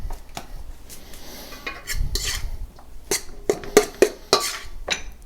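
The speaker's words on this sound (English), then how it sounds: "Okay, so we're going to mix that around now." Crumbled feta being mixed into fork-smashed purple potatoes with shallots and lemon, giving a run of close, sharp clinks and scrapes of a utensil against a bowl, spaced irregularly over soft stirring.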